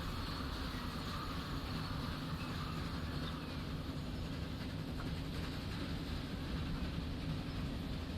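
Train rolling through a Transport Fever 2 game world, with a steady loud rumble and faint high metallic wheel squeal running continuously beneath.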